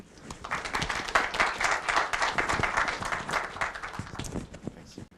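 An audience applauds warmly to welcome the dean, Dr. Adesida, at an academic event; steady clapping fills the hall for several seconds, with a few voices faintly underneath.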